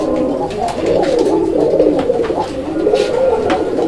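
A male pigeon coos close by, repeated throaty rolling calls overlapping in a continuous loud stream, with other birds faintly around and no talking.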